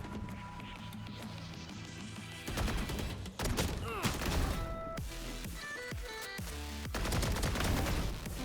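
Gunfire in a video game, a string of loud, clustered shots and impacts over steady background music and effects, with rapid bursts in the second half.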